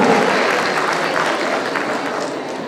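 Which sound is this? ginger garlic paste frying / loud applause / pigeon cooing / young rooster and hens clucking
loud applause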